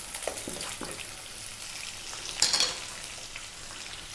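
Sliced onion sizzling in a pan over medium heat for Indian dal fry, a steady close crackle and hiss with a brief louder spatter partway through.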